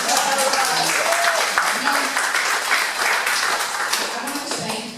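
Audience applause at a campaign event for a Florida governor candidate, a dense ripple of clapping with cheering voices mixed in, holding steady before tapering slightly at the end.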